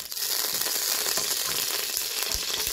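Sunflower oil and red oil sizzle steadily in a hot saucepan, a loud, continuous frying hiss with faint crackles throughout.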